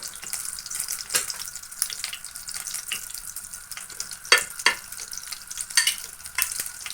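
Butter melting in a pan on the stove gives a soft, steady sizzle with light stirring and scraping, plus a few louder clinks and knocks. No one speaks.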